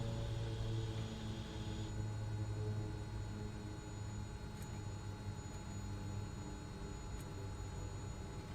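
A small propeller plane taxis and turns on a runway in a gusty crosswind, its engine a steady low drone with a continuous hum and no voices.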